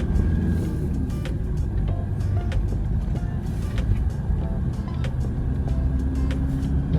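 Steady road traffic rumbles around a car driving through the streets of Khon Kaen, Thailand, a dense continuous low engine and tyre drone with passing vehicles and occasional faint clicks, loud and unbroken throughout.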